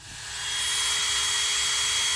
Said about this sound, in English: now I'm just drilling some holes into the feet of the 2x4s